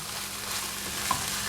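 Sausage and flour cooking together in a pan for biscuit gravy, a soft steady sizzle with light stirring scrapes and one brief tap near the end, close and fairly quiet, with no talking.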